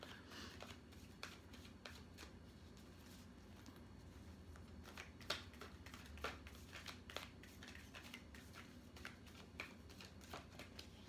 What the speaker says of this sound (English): Let's shuffle through this